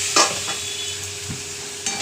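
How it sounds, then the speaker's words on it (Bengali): Onion and spices with turmeric and a splash of water frying in a pan, a steady close sizzle with a couple of sharp scraping stirs near the start and end. "ভালো করে মশলাটাকে ভেজে নেবো"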